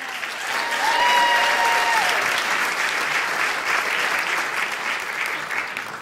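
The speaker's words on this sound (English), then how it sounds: "Round of applause right now for the very funny Alex Grubard." Audience applause at a comedy show, steady and full, with clapping swelling quickly and holding throughout, a few faint cheers mixed in.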